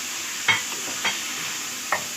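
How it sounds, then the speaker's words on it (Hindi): Mutton with green chillies sizzles softly in a pan, broken by three brief stirring scrapes, close and quiet, with no talk. "इसको इसके साथ अच्छे से फ्राई करेंगे"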